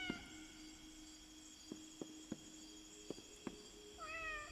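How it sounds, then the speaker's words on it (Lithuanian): A cat in the video game Indigo Park gives a short, rising meow near the end, after a series of soft, sharp taps. The sounds are quiet and close over a faint, steady hum. "Katė?"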